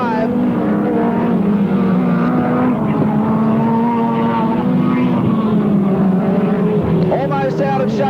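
Speedcars race at the 1986 Ray Revell Memorial, engines roaring loud and steady with wavering pitch as cars power through the turns, with a commentator speaking over the racket throughout.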